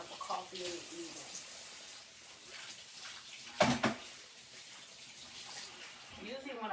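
Two coffee cups being rinsed under a running kitchen tap, a soft continuous splash of water with a brief louder gush midway, faint and close.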